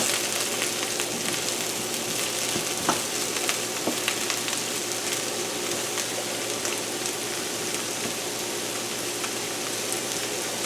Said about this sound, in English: I'm going to add my mushrooms. And let those fry for a while